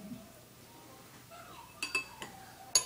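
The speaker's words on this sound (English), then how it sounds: "I like to mix as I go." Utensils clinking against a bowl while pastry ingredients are mixed, a few sharp metallic taps and scrapes in an otherwise quiet kitchen.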